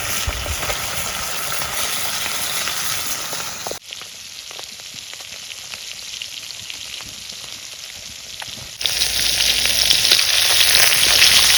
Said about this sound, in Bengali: এই দেখো অনেক মজা করে আমি মাছগুলো ভেজে নিতেছি